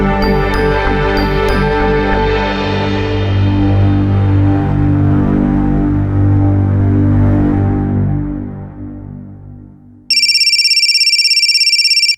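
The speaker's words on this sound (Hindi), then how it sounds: "तुम्हारा फोन बज रहा है" Loud sustained musical drama tones fade out over about ten seconds. Then an electronic phone ringtone starts abruptly and pulses steadily, loud and close, in a Crime Patrol TV crime drama scene.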